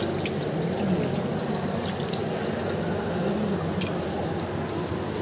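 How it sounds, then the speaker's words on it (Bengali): Tap water runs steadily from a faucet at a handwashing station at the ISKCON temple in Mayapur, a continuous splashing hiss filling the clip without pause, with no voices over it. "এখানে হাত ধুয়ে নেবো এবার আমরা।"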